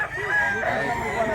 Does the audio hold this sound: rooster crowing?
yes